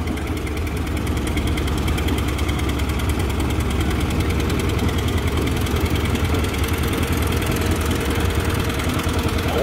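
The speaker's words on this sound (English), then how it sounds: "Kevin Fleege, John Deere 730." A 1959 John Deere 730 tractor idles at a tractor pull, its steady low engine rumble loud and continuous throughout with no talk.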